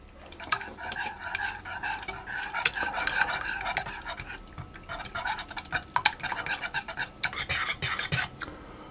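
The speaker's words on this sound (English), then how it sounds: "I'll whisk those through to get those fully combined." A whisk stirs beaten egg into chocolate cake batter in a bowl, giving a steady run of quick, light clinking and scraping strokes close by, with no talking.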